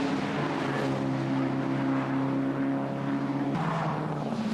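Racing cars from an MGCC BCV8 championship race howl past on track, loud continuous engine drone with sustained tones that shift in pitch as cars pass close by.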